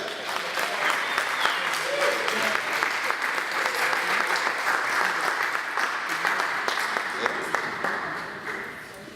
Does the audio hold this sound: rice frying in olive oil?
no